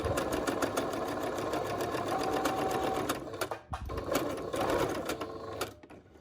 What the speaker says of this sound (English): Return stitch to secure the thread.